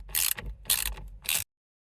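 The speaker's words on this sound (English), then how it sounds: "Then take your Torx 55 and screw it back on." Ratchet wrench with a Torx 55 bit tightening the steering wheel bolt on a VW Passat B5.5, three close bursts of rapid clicking ratchet strokes, each about half a second, then silence.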